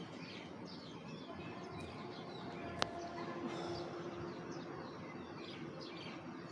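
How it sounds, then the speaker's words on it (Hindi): Birds chirp outdoors under a drizzly, overcast sky, with repeated small calls over a steady wash of background noise and one sharp click partway through. "देखो जी परिंदे भी चहचहा रहे हैं,"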